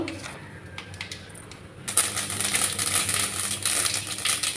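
Mustard seeds spluttering in hot sesame oil: a quiet pan for about two seconds, then a sudden burst of dense, close, continuous crackling and popping that carries on to the end.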